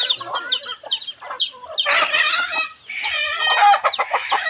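Agitated chickens clucking and squawking in rapid bursts, growing louder and more frantic, with flapping commotion and a brief crow-like call near the end.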